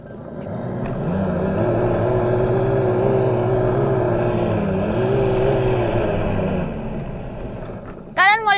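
A go-kart engine on a track at CPI Makassar accelerates with a buzzing drone that rises and holds, dips, then climbs again before dropping away. A brief voice is heard at the end.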